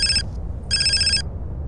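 A phone rings in Grand Theft Auto San Andreas: two bright electronic trills, the first clipped short and the second lasting about half a second, over a low background hum.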